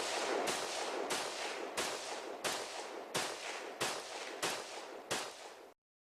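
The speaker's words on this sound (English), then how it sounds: "this is how a completely lawful semi-auto rifle fires" A lawful semi-automatic rifle fires about nine shots at a steady, roughly even pace, each a loud close crack with a short reverberant tail, before stopping abruptly.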